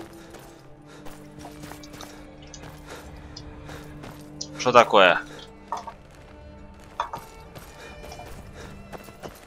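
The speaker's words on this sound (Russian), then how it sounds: "Зато конь рядом." A horse in the modded Skyrim game (Recast mod pack) neighs once in a short, shrill burst midway, over soft hoof clip-clops and busy game ambience, with a brief spoken question nearby.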